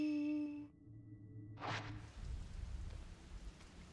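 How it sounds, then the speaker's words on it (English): Rain patters against a window in the horror video game Fatal Frame: Maiden of Black Water, a soft steady wash that follows a fading musical tone and a brief swell, with no talking over it. "Sound of raindrops on the window echoes faintly."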